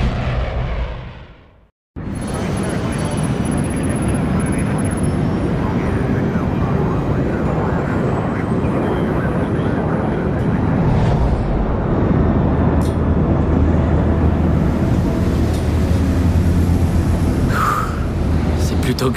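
Inside an airplane cabin in Splinter Cell Blacklist, a loud, steady engine drone roars continuously after a brief dip, with low rumble throughout and occasional faint higher tones.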